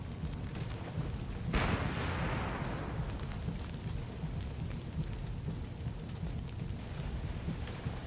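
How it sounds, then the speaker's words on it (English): Artillery shells land in a World War I battle near a tower, heard as one broad rumbling blast about one and a half seconds in that fades over a second or so, over steady rain-like battlefield noise with no talking. "There's our goddamn artillery."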